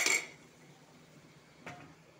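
A lid set over a pan of cooking mushrooms gives a sharp metallic clink, then a softer second knock, against quiet kitchen background.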